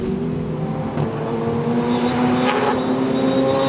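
Race cars in the FR Americas series run loud and steady on the racetrack at New Jersey Motorsports Park during a race, engines droning continuously with a slight swell as cars pass.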